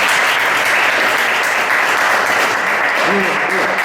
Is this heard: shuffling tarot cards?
no